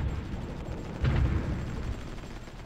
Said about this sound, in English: Hold on, I can hear a lot of fighting.